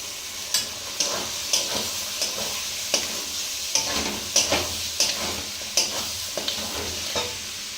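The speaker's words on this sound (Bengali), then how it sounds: "এই যে এবার আমি মাংসটা দিচ্ছি ওর ভিতরে, কড়ার ভিতরে অল্প অল্প করে।" Duck meat fries in a wok (karai) while it is added bit by bit and stirred, producing a continuous sizzle punctuated by regular sharp scrapes and clicks of a spatula, close and clear, no voices.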